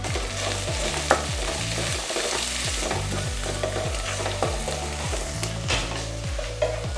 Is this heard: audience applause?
no